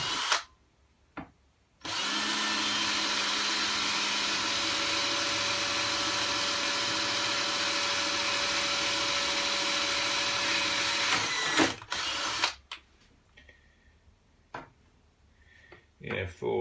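A power drill whirs loudly and continuously for about ten seconds while tongue-and-groove lining boards are fixed onto a hatch in a new narrowboat fit-out, then stops, leaving scattered knocks and handling noises.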